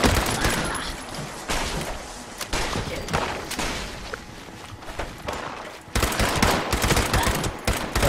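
Fully automatic weapon fire in the video game Fallout 76 rattles in long, rapid bursts, loud and close, with a brief lull before another sustained stream of shots.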